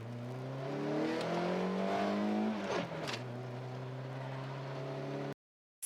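A Volkswagen Golf drives and accelerates with a steady engine drone that climbs in pitch through the gears, heard from inside, loud and close before cutting off.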